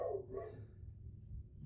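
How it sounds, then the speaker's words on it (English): A dog barks indoors, a short muffled burst near the start, fairly faint, followed by a low rumbling background with no talking. "Sorry about my dog. There's probably someone outside."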